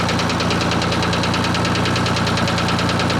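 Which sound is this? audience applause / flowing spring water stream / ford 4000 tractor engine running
ford 4000 tractor engine running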